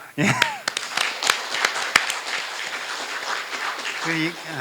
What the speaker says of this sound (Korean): 우리가 또 박수 한번 청해야죠